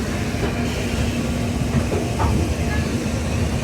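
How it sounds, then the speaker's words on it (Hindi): The Sairang Rajdhani Express, with a brand-new rake, rolls into Patna station, making a loud, steady rumble and hiss of a moving train with faint rhythmic wheel clatter throughout. "ट्रेन हमारी पटना में एंटर हो रही है"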